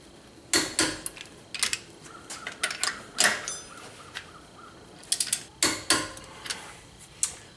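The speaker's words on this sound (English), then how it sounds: "these are going to get torqued to 90 foot-pounds" Torque wrench tightening wheel lug nuts on a Jeep JK after a leveling kit and wheel spacer install, sharp close clicks and ratcheting ticks in irregular bursts over a quiet background.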